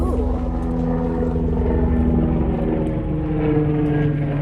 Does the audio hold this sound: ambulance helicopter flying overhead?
yes